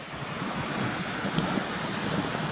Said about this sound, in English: You've always got the whitewater rapids coming all the way down, look.